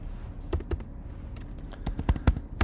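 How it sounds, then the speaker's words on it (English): Keys clatter on a computer keyboard in irregular bursts of clicks, close and fairly loud, with short pauses between the runs of typing. "So I can type here"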